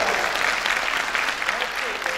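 An audience at a mushaira poetry recital breaks into sustained applause, the even wash of clapping continuing throughout.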